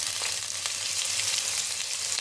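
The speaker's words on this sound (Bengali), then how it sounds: "পেঁয়াজটাও আমি হালকা করে ভেজে নেবো একটু।" Chopped onions fry in a pan with garlic and ginger for a vegetable momo filling, giving a steady close sizzle with a few faint stirring clicks and no voices.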